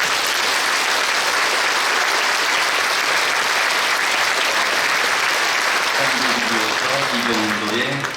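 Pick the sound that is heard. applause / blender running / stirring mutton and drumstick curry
applause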